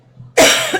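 One sudden, harsh cough bursts out close to the microphone after a brief quiet moment and trails off quickly.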